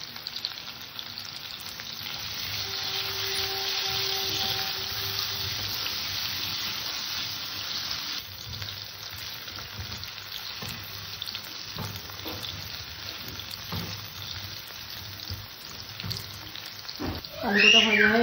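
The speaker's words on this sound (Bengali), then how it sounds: "কিছু আলু কেটে নিয়েছি, আলুটাকে ভেজে নেব" Potatoes cut for deep frying sizzle in oil with salt and turmeric, giving a steady moderate hiss with occasional soft stirring knocks, and the sizzle swells sharply near the end.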